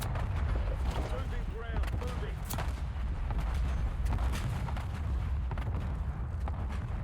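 Gunfire in the shooter video game Warzone crackles overhead in scattered shots and short bursts. It sounds somewhat distant above a rumbling low background, with a player's voice talking over parts of it.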